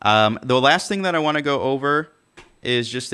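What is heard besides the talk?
No everyday noise stands out behind the speech.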